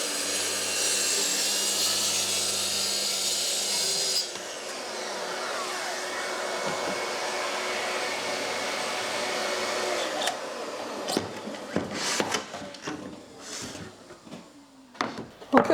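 A power saw cuts a wooden board to length for a mitre shooting board, a steady loud whine for about four seconds that continues more quietly before breaking into clunks and knocks as the pieces are handled.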